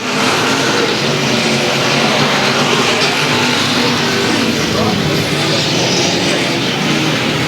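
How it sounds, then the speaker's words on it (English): Older race cars circle a racetrack at a weekly racing event, their engines a loud, continuous roar that stays steady and close throughout with no pauses. "A little different sound to the older race cars than what you hear from the late models and the modifieds"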